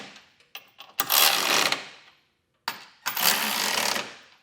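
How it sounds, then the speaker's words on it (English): A 19mm socket on an impact tool snugs up bolts on a Curt trailer hitch receiver on a 2023 Nissan Pathfinder, heard as two loud, close bursts of rattling hammering, each lasting about a second, separated by short pauses. "Now we're going to take a 19mm socket and snug up our hardware."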